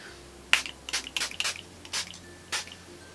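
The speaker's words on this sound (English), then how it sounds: "I'm going to use my e.l.f. Illuminating Primer Mist" An e.l.f. Illuminating Primer Mist bottle spraying in several short, crisp bursts close to the microphone, each one a quick hiss with brief gaps between, in an otherwise quiet room.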